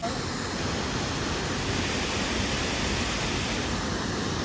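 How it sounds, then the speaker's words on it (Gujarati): Jamjir waterfall in the Gir forest pours with reduced flow, sending out a steady, unbroken roar of rushing water heard close by with no other sounds standing out. "તમે જોવો એકદમ જોરદાર ધોધ છે"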